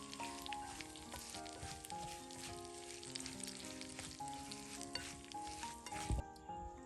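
Hot oil sizzles over chili flakes while chopsticks stir the mixture, a dense crackling hiss running steadily throughout, close but quiet, ending in a sharp knock.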